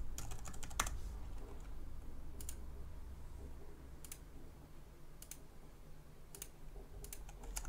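A password is typed on a computer keyboard in short clusters of crisp key clicks with pauses between them, close and fairly quiet over a low steady room hum.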